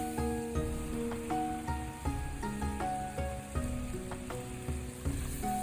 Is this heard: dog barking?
no